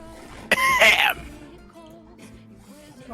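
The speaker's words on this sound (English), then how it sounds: "Cough, cough." A single short, sharp cough or throat-clear bursts out near the start, followed by quieter background sounds.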